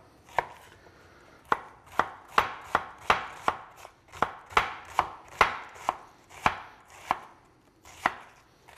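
An onion being finely chopped on a cutting board, a steady series of about fifteen sharp knife strikes with brief pauses between them, close and clear with nothing else heard.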